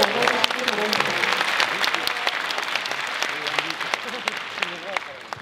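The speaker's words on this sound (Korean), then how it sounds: "큰 박수를 맞아주시기 바랍니다" Audience at a 2018 POSTECH university entrance ceremony applauding to welcome a student talk show host, a steady dense clapping from a large crowd that holds throughout at a fairly loud level.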